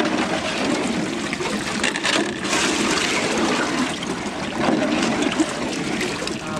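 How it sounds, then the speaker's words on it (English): Water being stirred and sloshed with a homemade scoop as clay is mixed into the quenching bath of a homemade gasifier, a steady churning wash of splashing that runs unbroken throughout. "using my homemade scoop, give it a good wash around and mix up"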